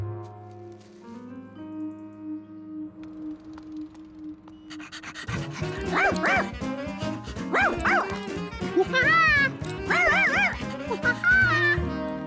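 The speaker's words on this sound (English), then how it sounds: "I'd take Charky with me, but some people are allergic to dogs" A cartoon dog barks, yips and pants in a lively string of calls up close. It follows a calm stretch of soft music with sustained tones.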